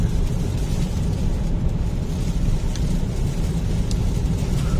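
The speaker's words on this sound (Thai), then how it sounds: "ฝนก็ตกทั้งวันครับนี่" Steady, heavy typhoon rain in Sikhoraphum, Thailand, roars continuously, with a dense low rumble throughout and no voices.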